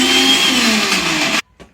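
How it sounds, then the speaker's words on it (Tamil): A mixer grinder whirs loudly and steadily as it grinds green chili, garlic, ginger, mint and coriander into a paste, then cuts off abruptly, leaving near silence. "இது எல்லாத்தையும் போட்டு நம்ம இப்போ ஒரு பேஸ்ட்டை அரைக்க போகிறோம்."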